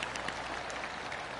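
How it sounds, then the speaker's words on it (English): Faint, brief applause from a small crowd at a U.S. Open golf tournament, a soft scattered patter of hands heard from a distance. "That deserves a golf clap."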